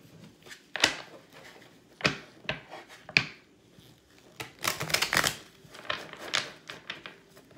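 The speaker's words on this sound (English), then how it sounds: "I'll shuffle and pull four cards from each deck" Tarot cards shuffled by hand from several decks, heard as irregular crisp slaps and riffles in scattered bursts, close up and moderately loud with quieter rustling between, no voices.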